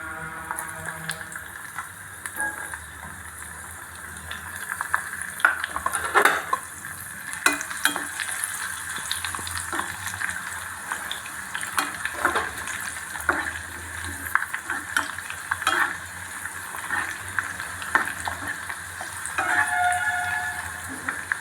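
Raisins fry gently in a pan on low heat for sweet rice, giving a soft continuous sizzle with scattered crackles and occasional stirring scrapes close by.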